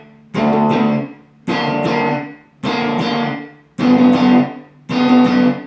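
An electric guitar tuned to DADGAD plays a lick through a distorted effects tone: five sustained, ringing chord strums spaced about a second apart, each decaying before the next, close and loud, no voice.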